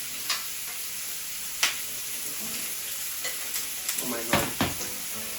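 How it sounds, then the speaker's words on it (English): Steady, hissing sizzle of calamari searing on a hot grill, broken by occasional clicks and scrapes, with a brief exclaimed voice near the end. "So as you can hear the beautiful searing,"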